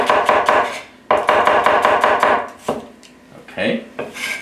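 A knife slices Chinese sausage thinly on a cutting board, giving close, rapid, even chops in two quick runs with a short pause between, then a few scattered softer cuts at the end.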